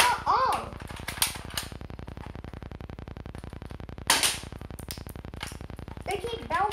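Spring-powered BB pellets fire and bounce back in a rapid, even stream of sharp ticks, with a few louder cracks and a voice talking at times over the clatter.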